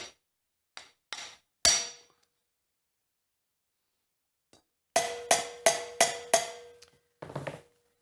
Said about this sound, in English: take your claw hammer, because I don't know where my ball peen hammer is, and give it a good smack